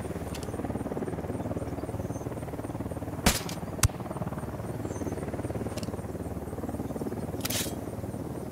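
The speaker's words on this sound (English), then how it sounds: "Got a chopper." A helicopter flies in the video game Ghost Recon Wildlands, a low, continuous rotor drone steady in the background, broken by a few sharp clicks and brief bursts of noise.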